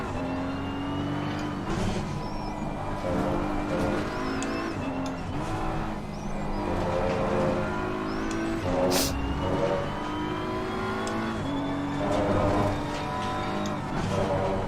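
Race cars in a racing video game: engines roaring and revving steadily with gear changes, a nearby car close alongside, occasional tire squeal, and faint talk underneath.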